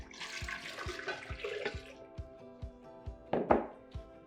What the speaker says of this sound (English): Next, add 4 cups of sparkling water.